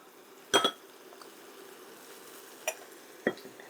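A big metal spoon clinks against a container while taco soup with ground beef is scooped in, three sharp separate knocks and clatters with quiet gaps between; no talking.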